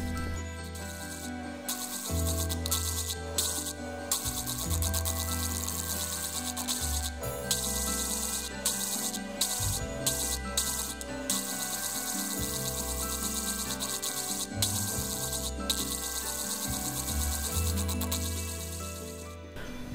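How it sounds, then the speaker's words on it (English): A gemstone is rounded against a spinning 100 grit faceting disc, a steady hum and gritty rubbing with repeated short rhythmic grinding passes and brief pauses, running alone for the whole stretch. "So the gem has been rounded out on a 100 grit disc"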